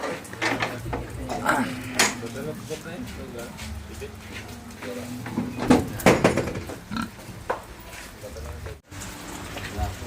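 A pig is lowered onto a scale at a livestock sale, bringing metallic clanks and rattles, pig grunts, and people talking over the handling.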